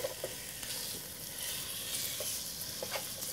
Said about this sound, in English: You'll have that sizzling sound in there.